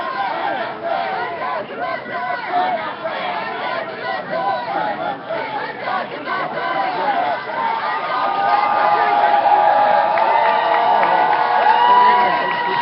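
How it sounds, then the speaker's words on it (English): A crowd at a street protest for an undocumented immigrant youth organizer facing arrest cheers from opposing corners. Voices blend into a steady roar that grows louder and fuller toward the end, with talk heard throughout. "The crowd on opposing corners is cheering Luis for his bravery and his courage"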